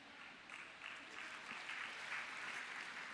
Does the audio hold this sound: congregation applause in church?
yes